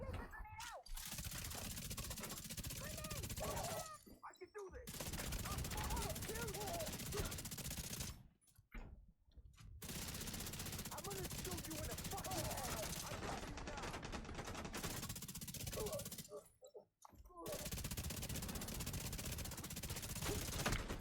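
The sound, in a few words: gunshots in the video game The Division 2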